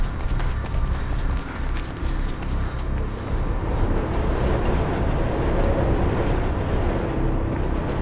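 A train rushes past in the Mirror's Edge video game, a steady, dense rumble and clatter holding for several seconds at moderate volume with no talk over it.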